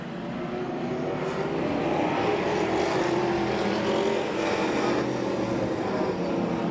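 Race cars in a State Farm Outlaws heat race at Claremont Motorsports Park roar past as a field, a loud, sustained engine drone with layered tones that holds throughout.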